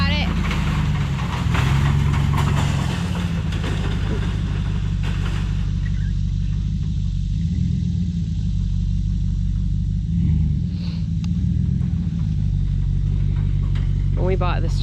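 A truck crawling and idling over uneven ground at a sawmill site, with a continuous heavy low engine rumble that swells and eases as it moves, and no talking.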